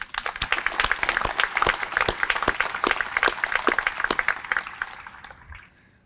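An audience at a technology center dedication applauds faculty, staff and students, a burst of many hands clapping at once that holds steady, then thins and fades away near the end.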